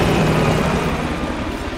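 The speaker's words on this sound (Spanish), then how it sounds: "¡El helicóptero se escapó!" Helicopter in a video game, a steady loud rotor and engine drone with broadband whir, continuous throughout without talk.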